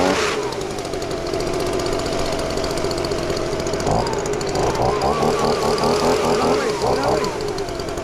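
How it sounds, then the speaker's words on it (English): A leaf blower runs loud and steady close by while concrete forms are peeled off a freshly poured custom fire pit, its engine drone rising and surging in pitch partway through. "Let me grab the blower, and as you go, I'll blow this as you peel"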